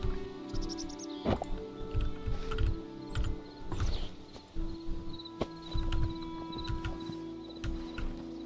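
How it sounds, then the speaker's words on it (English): Horse hooves clip-clop steadily in the Hytale video game, a regular rhythmic plodding of soft thuds close by over ambient insect and bird sounds, with a few sharper clicks. "Time to pull out the horse."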